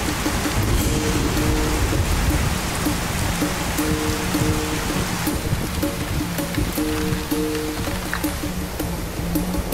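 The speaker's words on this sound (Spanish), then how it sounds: "y se suceden los intensos aguaceros" A heavy rain shower in the Australian wet season pours down steadily, a dense hiss of drops with a low rumble beneath, loud and unbroken, without any speech.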